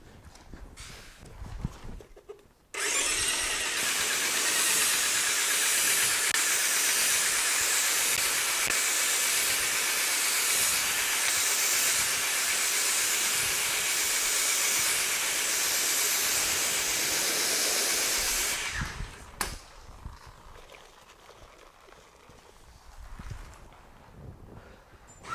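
A strong, steady spray of water rinses a car during a sealant wash, rising abruptly and hissing loudly for about fifteen seconds before cutting off, with quieter handling noises before and after.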